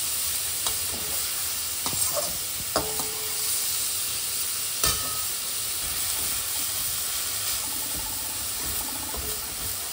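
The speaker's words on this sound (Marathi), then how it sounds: "आता हा परततो आहोत आपण तुपामध्ये" Grated pumpkin stir-fried in hot ghee, a steady close sizzle running throughout with occasional scraping clicks of the spoon against the pan.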